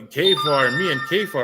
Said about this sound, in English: I'm so sorry about my phone again.